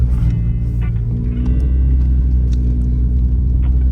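A 2024 Toyota GR86 drives through snow on all-weather floor mats, giving a steady, loud low rumble of engine and tires with a constant churning drone and no breaks.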